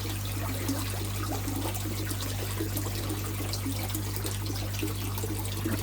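Water runs steadily through a pond filter pump, a constant close trickle and rush of flowing water over a low, steady hum.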